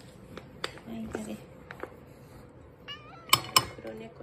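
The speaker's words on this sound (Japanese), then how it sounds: "黒猫ちゃんはサンバかな" A cat meows a few times amid light clinks of dishes as several cats are fed, while a person talks nearby.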